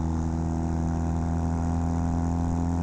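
A Kawasaki KZ400 tracker motorcycle engine runs steadily while riding uphill in fourth gear, a close, constant mid-pitched drone with no changes in revs and no talk.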